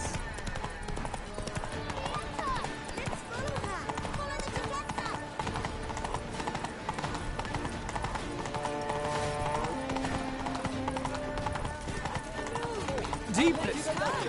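Hooves of Roach, a horse in The Witcher 3, drum in a steady gallop through a town. The clip-clop runs on under game music and ambient noise, with a brief neigh near the end.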